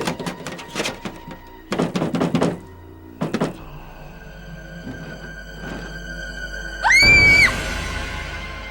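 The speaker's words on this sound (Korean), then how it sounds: "누가 와서 자꾸 또 문을 두드려는 게" Knocking on a door, a few loud clustered knocks in short bursts early on, followed by a sharper ringing sound near the end, with no talking.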